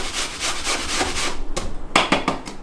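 A fresh apple is grated by hand on the smallest holes of a grater, giving a dense, continuous rasping scrape with quick rhythmic strokes, close and fairly loud with no talking.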